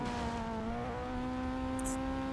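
Rally car engine from the video game Colin McRae Rally 04 holds a steady droning hum with strong tonal harmonics, pitch dipping slightly then holding level, with a brief higher burst near the end.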